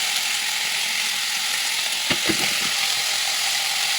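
Vegetables tipped into hot oil in a home kitchen pan, a steady close hiss of frying with a brief burst of crackle and clatter as they land, then a continuous sizzle.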